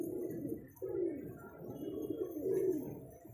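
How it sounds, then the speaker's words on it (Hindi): Pigeons in a loft coo close by, with repeated low, throaty coos rolling one after another over a soft, steady background. "देखिए बहुत ही खूबसूरत कबूतर"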